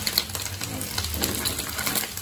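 Salted fish frying in a pan gives a steady, dense sizzle and crackle throughout, fairly close and unbroken, with small scattered pops on top of it.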